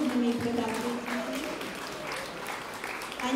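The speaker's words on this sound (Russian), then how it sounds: "провожаемых аплодисментами, бурными их продолжениями" Audience applause after a concert by the younger group of a children's choir, a steady wash of clapping filling the hall with someone speaking over it.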